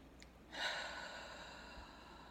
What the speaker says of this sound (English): start with one deep cleansing breath